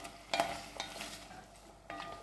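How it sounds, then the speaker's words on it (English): Vegan stock is stirred into a pot of Jamaican Ital vegetable stew. Soft scraping and sloshing comes in a few short bursts with a light sizzle beneath, close and fairly quiet, and no one speaks. "I'm just gonna add that in, give it a mix, make sure everything is combined."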